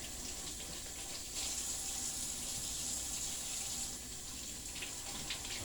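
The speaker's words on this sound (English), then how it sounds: "I get them washed and cleaned." Bell peppers are washed under a running kitchen tap before being stuffed, giving a continuous, close hiss of water splashing into the sink that swells slightly in the middle.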